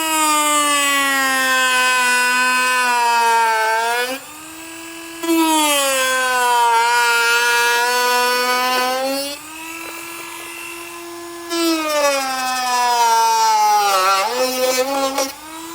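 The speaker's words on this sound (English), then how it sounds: "I'm going to use a Dremel here" A Dremel rotary tool whines loudly as it cuts small openings in a marked panel for trailer hitch bolts on a 2023 Hyundai Palisade, its high pitch rising and dipping over several cutting passes with brief pauses.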